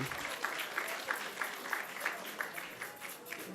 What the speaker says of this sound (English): let's give a big round of applause to everyone who has joined us today